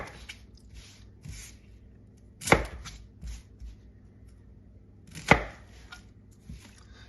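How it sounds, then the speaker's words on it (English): Two sharp knife chops on a cutting board slice the ends off a vegetable, each a single loud crack standing out from quiet kitchen movement, spaced a few seconds apart. "Cut the two ends off."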